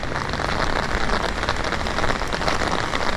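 Steady rain pouring down, a dense close hiss of drops striking surfaces without a break, loud and even throughout with no voices.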